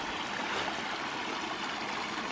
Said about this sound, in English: There's a little spring that joins in to the main creek here. Still flowing real well.